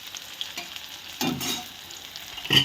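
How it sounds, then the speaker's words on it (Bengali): Onions with slit green chillies fry in mustard oil in a wok, a soft, close sizzle broken by a few stirring scrapes, with no voices. "ভালো করে ভাজা হোক"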